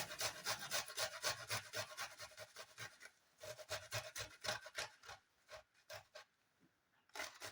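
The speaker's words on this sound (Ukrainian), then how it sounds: "перевертаю терку та натираю 3 зубчики чеснику" Garlic cloves rubbed over the back of an upturned grater, a close, quiet series of quick rasping scrapes in uneven bursts with short pauses.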